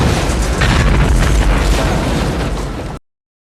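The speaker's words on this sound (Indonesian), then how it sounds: "Nadia memasukkan grenade untuk meledakkan sang Kapten Seastar" Grenade blast in a film, a loud, dense, close explosion that roars for about three seconds and then cuts off sharply into silence.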